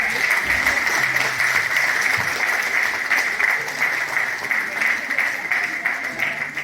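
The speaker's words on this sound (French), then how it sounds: "vous pouvez applaudir tous" Steady applause from a crowd at a French public-speaking contest fills the whole stretch, a dense wash of clapping with a faint voice murmuring underneath.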